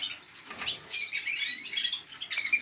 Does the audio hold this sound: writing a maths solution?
no